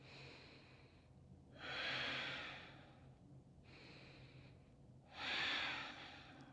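Slow deep breaths during a yoga session, two long airy inhale-and-exhale pairs close to the microphone, soft and unhurried with no talk.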